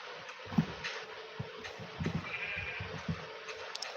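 Minecraft sheep give a few short, faint bleats over a soft hiss of ambient game sound, with no voices.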